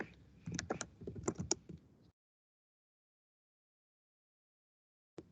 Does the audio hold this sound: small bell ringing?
no